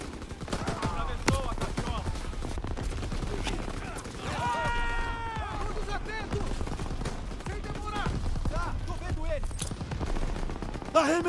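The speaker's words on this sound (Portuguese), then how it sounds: "Essas metralhadoras estão nos massacrando!" Machine gun fire rattles in repeated bursts in a Call of Duty WWII battle, sustained and fairly loud, mixed with other gunshots and shouting soldiers speaking Portuguese.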